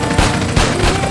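Loud gunfire and explosive booms from a shotgun or bazooka in GTA San Andreas Definitive Edition on mobile, a dense, continuous barrage of blasts with several heavier thuds, filling the whole moment with no speech.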